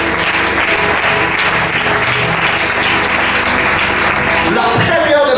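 Church seminar audience applauding for the Holy Spirit, a loud, dense wash of clapping and cheering from a large crowd that carries on steadily, with voices mixed in.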